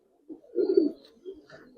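Giribaz pigeons coo close by, a short low throaty coo followed by a couple of softer murmuring coos within about two seconds, with no talking.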